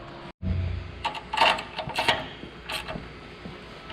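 Quick mechanical clicking bursts, close by, in short repeated runs with brief pauses, like a ratchet wrench tightening bolts on a car.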